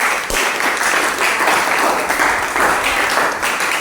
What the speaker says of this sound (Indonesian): kita berikan tepuk tangan dulu dong kepada semua